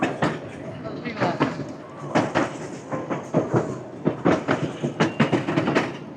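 Rhythmic clattering of a zoo's ride-on train rolling over rail joints, steady and fairly close, with people talking throughout.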